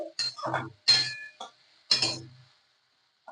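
A spoon clinks sharply against a pan while stirring whole cumin with chopped ginger and garlic for a capsicum chutney. A few bright, separate knocks come in short bursts, with quiet gaps between them.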